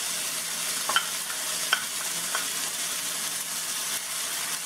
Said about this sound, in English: I'm going to go ahead and add our pesto sauce now.